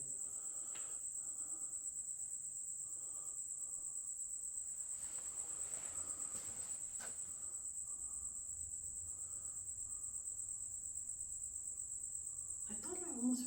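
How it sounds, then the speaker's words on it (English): Crickets chirp in a constant high-pitched trill close by, steady throughout, with faint soft rustles and a brief voice near the end. "These crickets are right over my head."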